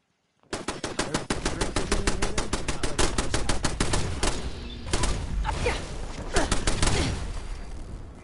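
Dense bursts of automatic gunfire and rapid single shots from a Fallout 4 firefight, loud and continuous for about eight seconds, with brief dips between volleys.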